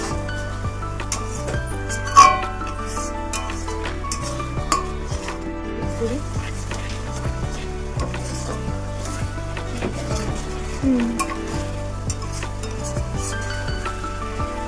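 Masala sautés in a pan with a steady sizzle, punctuated by a spoon scraping and clanking against the metal, one sharper knock standing out early on.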